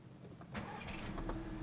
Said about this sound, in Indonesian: Oke, kita nyalain dulu mobilnya.